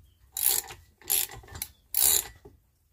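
Mechanical clicking and ratcheting as an old lawnmower engine is turned over by hand and its valves move. Three rhythmic bursts of scraping and clicking come close and distinct, with no talking.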